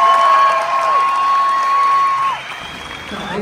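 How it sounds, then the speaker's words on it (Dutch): Crowd at a dance performance applauds and cheers for a group, with whoops and a steady sustained tone running beneath the clapping until it fades slightly near the end. "geef ze een hartelijk applaus"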